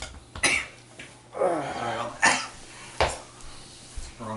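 A person coughing and clearing their throat during a tabletop Dungeons and Dragons session, several rough bursts close up at uneven intervals, with quieter chatter and faint clinks of dishes between them.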